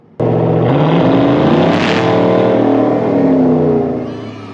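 A big pickup truck engine with an aftermarket intake revs up abruptly and holds a loud, throaty roar for several seconds before easing off slightly, close by with no talking.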